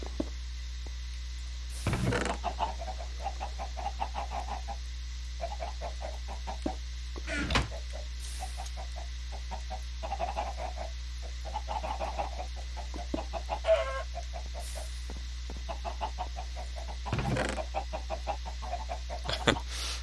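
Chickens in the video game Minecraft Skyblock, repeated short clucks in loose bursts across the span, fairly close, with occasional louder thumps and sharp clicks in between.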